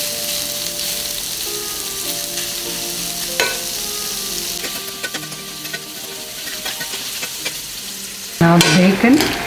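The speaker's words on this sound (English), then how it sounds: "Let's bring the bacon in." Bacon frying and being stirred in a pot while making boeuf bourguignon, a steady dense sizzle with scraping stirs, growing louder and brighter in the final second.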